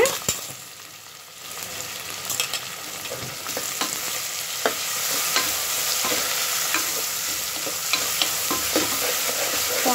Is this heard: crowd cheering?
no